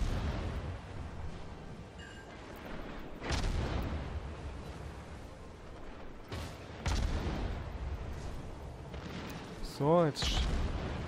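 Warship main guns boom in a World of Warships naval battle against the battleship Colorado, a few heavy blasts breaking through continuous engine and sea rumble while someone talks over the action.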